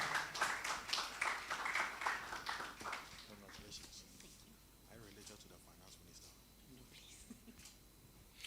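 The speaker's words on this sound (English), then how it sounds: "big round of applause for Benedicta Ahinforsen" Audience applause for a speaker at the Falling Walls Lab event in Accra, Ghana: loud, dense clapping fills the first few seconds, then thins and fades into scattered claps and murmuring crowd noise.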